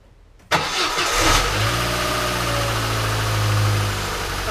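A 2004 Vauxhall Corsa C petrol car engine cranks briefly, fires, and settles into a steady close idle that runs on without talk.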